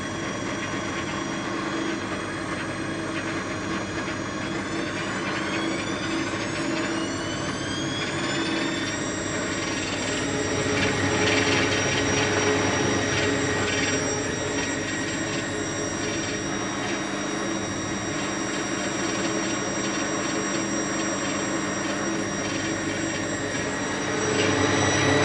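Washing machine running with its door open, spinning up to high speed: a steady loud motor whine rises in pitch over several seconds and then holds, with a continuous mechanical hum and no voices.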